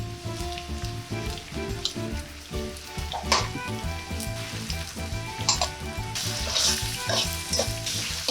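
Butter and cheese sizzle loudly with sausage and mushroom pasta in a hot pan, a steady crackling hiss under the clatter of tossing and stirring, with no talking.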